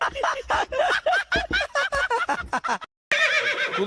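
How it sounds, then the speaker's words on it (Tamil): A horse neighs in a long, quavering whinny of rapid pulses, close and loud, breaking off briefly before another loud burst follows. "குதிரை எங்க கட்டி இருக்கீங்க?"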